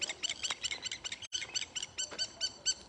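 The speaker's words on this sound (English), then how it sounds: "Just like these birds here, they're territorial in their thinking" Territorial birds calling outdoors, a rapid series of high, repeated chirping notes in quick bursts with a short break in the middle, fairly close and clear, with no voices.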